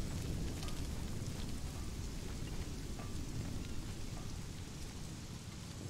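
In Conan Exiles, rain falls through glass panels, making a constant dense hiss of heavy rainfall that stays level and even from start to finish.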